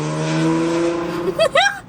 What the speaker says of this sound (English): Somebody's Honda Civic.